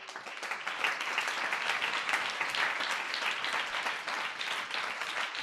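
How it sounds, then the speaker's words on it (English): Church congregation clapping hands together, a dense, steady wash of applause lasting throughout at an even, fairly loud level with no talk on top. "Will you clap your hands?"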